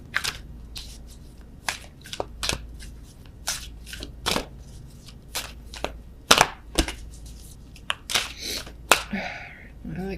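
Wisdom of the Oracle divination cards are shuffled for a tarot reading, giving a string of sharp, crisp riffling snaps and slaps close to the microphone, with a faint low hum underneath and no talking.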